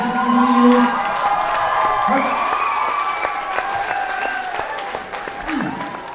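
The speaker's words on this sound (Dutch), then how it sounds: "Dit is de laatste applaus hier." Applause from an audience at a Serious Request charity event in Oostburg, dense steady clapping with scattered cheers and voices, loud and close, easing slightly near the end.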